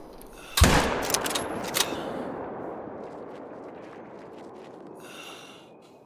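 A single sharp, loud rifle shot aimed at a moose in theHunter: Call of the Wild cracks out and echoes, followed by a few fainter metallic clanks and a long fading outdoor tail.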